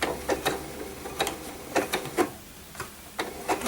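A sewing machine running slowly while stitching a blind hem on a sleeve-like tube of fabric, its needle mechanism clattering in quick irregular bursts of ticks with brief pauses between, close and moderately loud with no talking.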